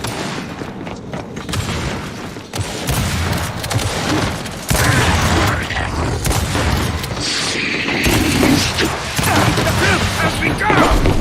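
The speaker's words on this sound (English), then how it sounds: "Frag out! Throwing frag!" Frag grenade thrown and bursting in Gears 5 amid a chaotic firefight, with loud booms, crashes and bursts of gunfire building up, and shouted voices over the top.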